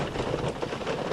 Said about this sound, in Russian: Вон дождик немножко уже утихает.